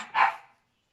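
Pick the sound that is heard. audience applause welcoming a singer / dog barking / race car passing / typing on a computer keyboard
dog barking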